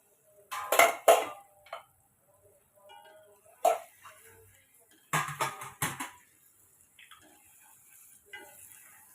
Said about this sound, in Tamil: இப்போ நம்ம முட்டையை கிண்டி விட்டுக்கலாம்